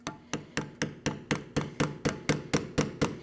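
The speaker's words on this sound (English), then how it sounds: "place it in between the sensor and the knuckle, just give it a tap lightly" A flat-blade screwdriver lightly tapped against a stuck rear ABS wheel speed sensor on the steering knuckle of a 2012–2016 Honda CR-V, about thirteen sharp, evenly spaced metallic taps at a steady quick rhythm, close and alone.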